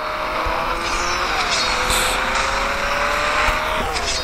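Small Mini cars race in the mobile game CSR Classics, their engines revving loud and close with rising pitch sweeps as the gears shift, plus faint tire noise under the steady game audio.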